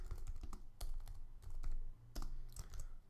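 Computer keyboard typing while writing a WordPress theme function in functions.php, heard as close, uneven bursts of key clicks with brief pauses between runs and no talking.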